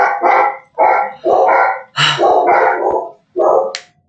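Dogs bark loudly and close by in a rapid series of about seven sharp, overlapping barks with short pauses between them, with no talking.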